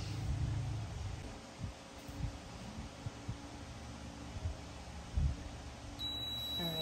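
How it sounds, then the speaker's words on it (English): A mug press timer gives a short electronic beep near the end, a single bright tone over a low background hum and faint clatter. "So it beeped now since it's done"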